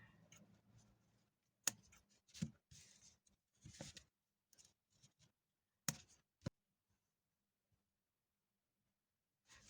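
Scissors snip loose crochet yarn ends on handmade earrings, a few sharp, quiet clicks and snips scattered among soft handling noises in a quiet room.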